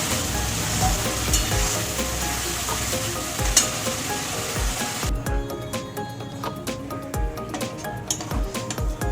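Spices frying in oil in a pan, a steady dense sizzle with occasional sharp clinks of a utensil against the pan, close and continuous without talk.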